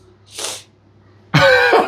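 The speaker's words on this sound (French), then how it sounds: "Tu viens de renifler." A single soft, breathy sniff through the nose, close and brief, followed by a louder burst of voiced sound.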